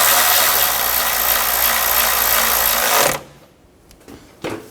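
A power tool whirs steadily for about three seconds while tightening the engine cover bolts on a 2007 Chevy Silverado 1500 Classic, then stops abruptly, followed by a few faint clicks and handling sounds near the end.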